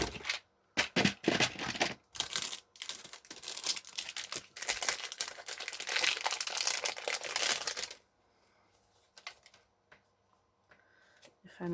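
Sticker sheets being handled and crinkled, a dense run of close, loud crackling and rustling for about eight seconds that then drops to faint, sparse handling noise.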